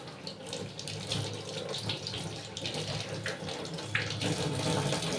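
Running tap water splashes steadily over pointed gourds being washed in a kitchen sink, a continuous close stream with shifting splashes and no voices.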